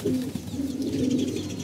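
Young pigeons cooing inside their loft, a steady low burbling coo running close and fairly loud throughout, with no talk.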